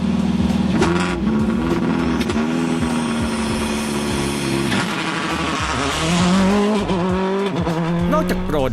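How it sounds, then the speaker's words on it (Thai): A loud rally car engine with anti-lag idles and revs with a steady whistling turbo spool and popping, crackling bursts, dense and close throughout. "ดูจากคลิปนี้จะได้ยินเสียงเทอร์โบเริ่มอัดอากาศ ก่อนจะออกตัวซะอีกครับ"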